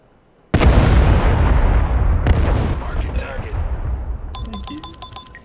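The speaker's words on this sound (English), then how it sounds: "And now we're lasing in some artillery." A laser-guided artillery strike exploding in the video game Broken Arrow: a sudden loud boom, then a second impact, with long rumbling decay while a voice talks faintly over it.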